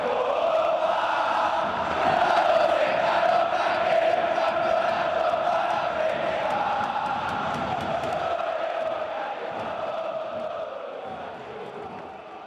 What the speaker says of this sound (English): La Bomboneras, towering stands amplify the crowd noise, and it gets really loud